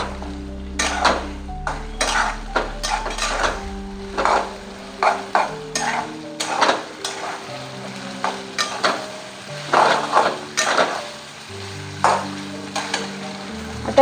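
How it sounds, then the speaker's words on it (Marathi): Masala for a salted brinjal dish being stirred and fried in a pan, with sharp, repeated scraping and clinking of a spoon against the metal over a continuous sizzle, close and loud, with no voices. "आपण त्यामध्ये मसाला टाकून घेऊया। याला मिक्स करून घेऊया."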